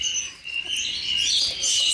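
Many different birds call together in a bird garden in Qom, with bright chirps and tweets overlapping continuously over a faint background hum.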